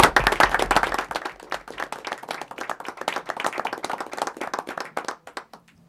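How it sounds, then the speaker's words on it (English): Enthusiastic applause from a crowd at a school committee meeting, loud at first and then settling into steady, scattered clapping that gradually thins out. "One more round of applause for all the students."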